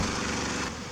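Small engine of a John Deere riding lawn mower modified into a mud mower with dual rear wheels, winch and ram bar, a loud, steady buzzing drone that dips slightly near the end.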